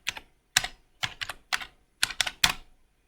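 Crisp, close keystrokes on a computer keyboard while searching a menu in the Eclipse IDE, tapped in short bursts of one to three clicks with brief pauses, alone in a quiet room.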